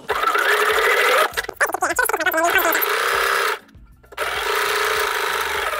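A sewing machine running a quilting line through layered fabric, with loud, fast, steady stitching bursts that stop and start again after short pauses, close up, and a voice briefly audible in one gap.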